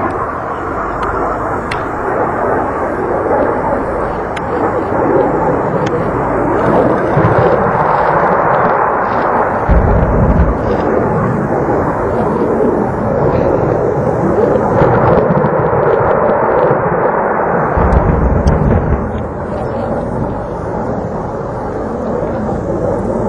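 Military aircraft passes and artillery fire during a joint tactical exercise, heard as a sustained loud roar of jet and engine noise with heavy low rumbling bursts throughout, no speech.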